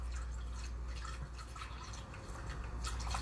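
Leftover beer is poured over barbecue meat in a container, a soft, steady trickle and dripping of liquid, faint and close, with no talking.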